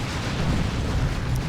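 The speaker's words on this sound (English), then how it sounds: "That's a cannon. Good hit." A cannon shot lands in a Warhammer 40,000: Dawn of War 2 battle as a dense, sustained rumbling blast with heavy low end. It is loud and continuous for a moment, with no voices over it.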